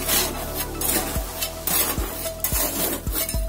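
A sand and cement mortar mix for bathroom tiling is stirred and scraped, with gritty rasping strokes repeating in a steady rhythm, close up and with no speech.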